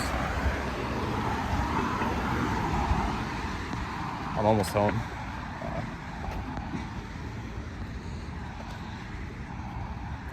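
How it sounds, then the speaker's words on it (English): Steady road traffic rumbles past outdoors, a continuous wash of car and heavier vehicle noise with one brief louder swell midway, while a person speaks briefly over it. "Cars."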